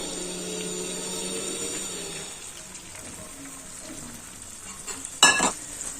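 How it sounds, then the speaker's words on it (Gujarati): Urad dal flour stirred and roasted in hot ghee for adadiya, a steady close sizzle with scraping strokes of the spoon across the pan and a brief sharper clatter near the end, without any talk. "હવે આપણે લોટ છે ઘીમાં શેકી લેવાનો છે।"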